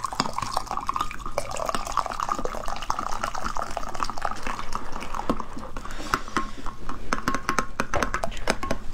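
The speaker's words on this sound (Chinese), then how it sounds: "然后边倒边给它快速的搅拌" Just-boiled water from an electric kettle is poured in while the mixture is stirred quickly, making a continuous splashing, trickling pour with rapid clinks and scrapes from the stirring, moderately loud and close.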